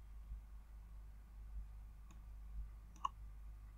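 A single sharp computer mouse click, near and quiet, with a fainter click a second earlier, over a steady low hum and background hiss.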